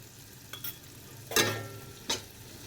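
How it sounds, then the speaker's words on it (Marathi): Chili powder stirred into vermicelli upma in a hot pan, a soft sizzle with a few brief scraping strokes of a spoon, close and without talk. "छान मिक्स करून घ्या"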